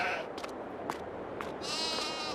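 Sheep bleating in the Farming Simulator 22 video game, a few short, nasal bleats spaced apart over a quiet farm background, fairly close and clear.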